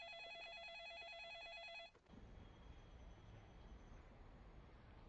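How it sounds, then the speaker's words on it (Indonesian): A telephone rings with a trilling electronic bell pattern for about two seconds, then cuts off, leaving only a steady background hiss and low room noise, close and fairly loud, with no voices. "Anye, telepon."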